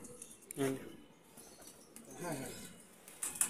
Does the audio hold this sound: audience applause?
no